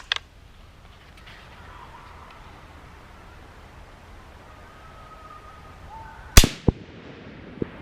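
Rifle shots fired with Blue Ammo strike a steel target outdoors. After a quiet stretch, a sharp crack rings out with a short metallic decay, followed by a couple of fainter impacts.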